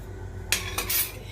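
An iron frying pan is set down, giving two or three short metallic clanks close by with a brief ringing tail, with no talk.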